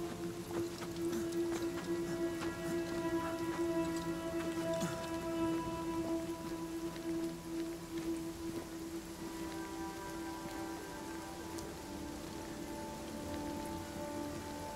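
Heavy rain in the video game Banishers: Ghosts of New Eden, a dense, steady hiss of downpour lasting throughout with faint scattered tones in the background and no voices.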